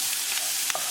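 Corn masala sizzles softly in a pan on low to medium heat while a spoon stirs it, with a couple of brief scrapes and no talking.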